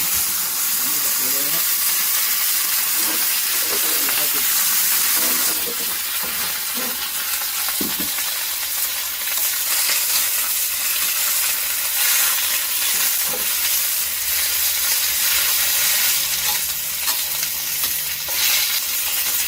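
Loud, steady sizzling and hissing of Chinese kale and canned fish frying in a hot wok, with occasional scraping stirs and a voice talking faintly underneath.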